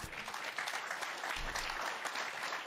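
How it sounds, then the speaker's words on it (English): A live audience claps briefly during a comedy-style talk on politics, a short, dense burst of applause from a crowd, fairly close and uninterrupted by speech. "Don't clap that."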